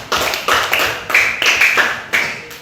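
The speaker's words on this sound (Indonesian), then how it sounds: "Tepuk tangan dulu untuk mereka." Students in an elementary school classroom clap in short bursts, several distinct rounds of hand claps in quick succession, fairly loud and close, with young voices calling out between them.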